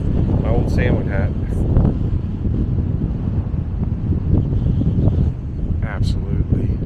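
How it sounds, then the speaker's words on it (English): Strong gusts buffet the microphone at a windy canyon overlook at Dead Horse Point State Park in Moab, Utah, a loud, continuous low rumble. "sorry if the wind just kicked up and it's loud"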